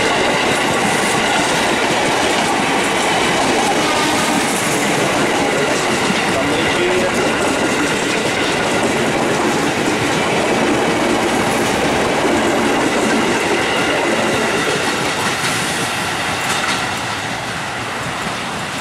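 A KRL JR 205 electric commuter train rolls past near Jatinegara, Jakarta, bound for Bekasi, its steady loud rumble and clickety-clack lasting throughout with faint voices mixed in.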